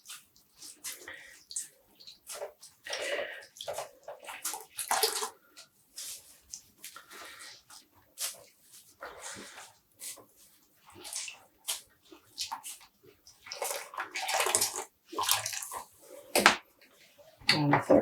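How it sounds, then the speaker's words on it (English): Dyed yarn skeins being wrung out by hand, with irregular wet squelches, drips and splashes coming in short bursts close by, separated by brief pauses. "And squeezing out the water."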